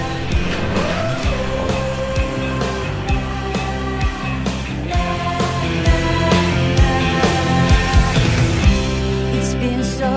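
A car engine hums steadily for ten seconds as the car is driven, with a sustained motor drone and a few sharper bumps and clicks, sitting under music with no talk.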